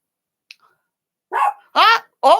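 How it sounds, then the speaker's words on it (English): A dog gives three short, close barks in quick succession after a moment of near silence, each sharp and loud against a quiet room. "He's barking."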